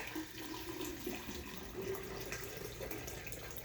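Hot water pours steadily into a plastic water softener container used for cartridges, a continuous close splashing rush with no talk.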